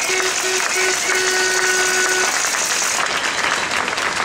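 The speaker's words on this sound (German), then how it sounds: "ein Applaus dafür." Loud, close applause from a crowd at an "Empört Euch!" citizens' rally, dense continuous clapping running throughout, with a faint tonal hum under the first half.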